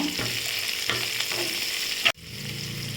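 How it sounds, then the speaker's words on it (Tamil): Steady sizzling and crackling of onions and herbs sautéing in a pan, with a few stirring scrapes and a sharp clack near the end. "சேர்த்து நல்லா வதக்கிக்கோங்க"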